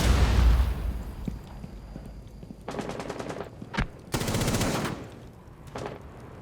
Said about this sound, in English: they were shooting at a wall trying to kill them